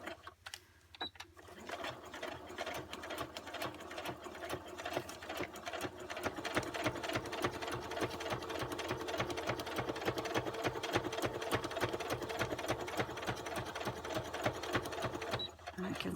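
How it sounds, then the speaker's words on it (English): A sewing machine stitches a mini notebook, running steadily forward and then reversing for back stitches. The motor hum and needle rhythm carry on continuously and close up for most of the stretch. "And then I'll do a couple of stitches forward."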